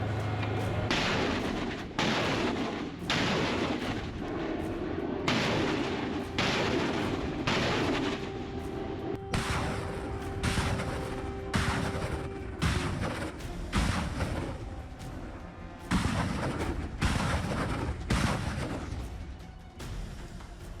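Missile system firing in a war setting, a long series of heavy launch blasts spaced about a second apart, loud and booming, with a sustained tone running under the middle stretch.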